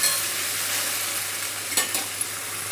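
Okra sizzles steadily in a pan over a gas flame, a continuous bright hiss with a couple of faint scrapes from stirring; no one speaks.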